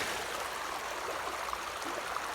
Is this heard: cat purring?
no